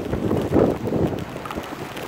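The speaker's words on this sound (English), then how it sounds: "Here's another wind gust. Oh, it's getting breezy now" A wind gust in a rainy, blustery storm, a steady breezy rush that swells into a stronger gust midway and then eases back, close and fairly loud against the microphone.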